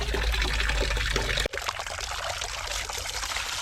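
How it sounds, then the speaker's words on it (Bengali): A big mug pours water into a bucket, a loud full gush that cuts off abruptly, followed by a lighter trickling and splashing as the water settles. "আর বড় মগটায় জল ভরতে জাস্ট কিছুক্ষণ লাগে।"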